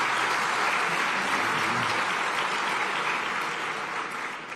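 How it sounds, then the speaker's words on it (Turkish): Audience applause at a Galatasaray club president's press conference, a dense, continuous wash of many hands clapping, loud and steady before easing slightly at the end. "Büyük bir alkış hak ediyorlar."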